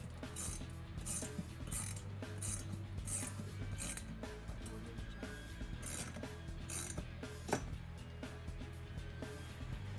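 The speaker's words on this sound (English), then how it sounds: "while we're tightening our hardware, we want to make sure that we're snugging it down" A ratchet clicks rapidly in repeated bursts as seat kit hardware bolts are tightened on a Club Car Precedent golf cart, close and fairly quiet, with metallic ticking and brief pauses.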